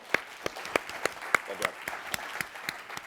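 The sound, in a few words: audience applause for the debate side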